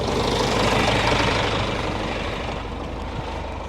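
Outdoors, a tractor pulls a vegetable transplanter along a planting row, its engine droning loudly and steadily up close and easing off slightly toward the end, with no voices.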